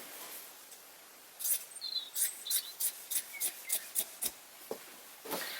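Scissors cutting through a t-shirt's cotton body from under the arm across to the other side, a series of close, crisp snips in quick rhythm with short pauses between.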